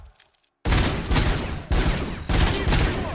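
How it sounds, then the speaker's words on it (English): Suppressing gunfire in the RoboCop video game: loud dense bursts of rapid shooting that start abruptly after near silence and continue in three or four strong volleys. "Suppressing fire!"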